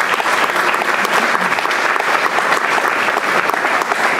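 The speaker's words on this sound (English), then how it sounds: "So let's give them a round of applause." Sustained applause from an audience at a college hall of fame ceremony, dense and steady clapping filling the room throughout with no break.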